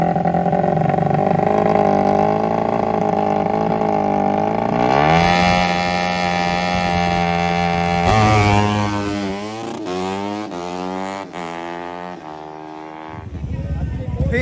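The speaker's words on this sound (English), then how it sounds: "Here he comes now in the junior drag bike category." Junior drag bike with nitrous launching down a drag strip, a loud sustained engine roar rising in pitch through several rapid upshifts, with an announcer's voice talking over it.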